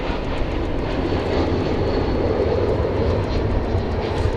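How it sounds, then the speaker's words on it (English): An American Airlines Airbus A321 arriving at Dallas Fort Worth Airport produces a steady, fairly loud rumbling jet roar with a low drone, continuous and without voices. "it's an Airbus A321 American Airlines"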